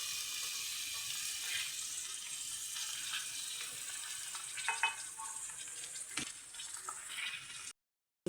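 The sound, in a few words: cluster beans frying in a hot pan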